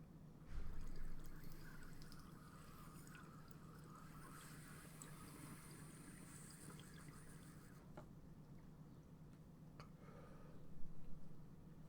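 A toke of Skywalker OG cannabis rosin draws as a long, steady bubbling hiss of water through a pipe, close and continuous, swelling at the start and again near the end.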